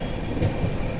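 The 12369 Kumbha Express passenger train from Kolkata to Haridwar rolls along, heard from on board as a loud, continuous low rumble of carriages and wheels with no break.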